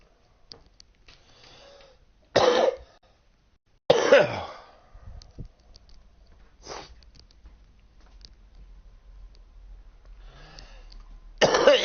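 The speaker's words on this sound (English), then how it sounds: "Can't be doing this cough." A person coughs in a few sharp, separate bursts between quiet stretches, with throat-clearing and sniffing in the gaps, heard up close.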